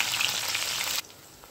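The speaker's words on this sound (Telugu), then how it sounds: "ఐదారు పచ్చిమిరపకాయలు కూడా ఇలా సన్నని చీలికలుగా చేసుకొని వేయించుకొని తీసి పక్కన పెట్టుకోవాలి" Slit green chillies frying in oil give a bright, steady hiss that drops sharply to a faint simmer after about a second.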